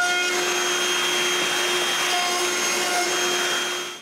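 Router bit in a router table rounding the corners of a wooden piece for a TV stand, a loud, steady, high-pitched whine held close for the whole stretch, tapering slightly at the end.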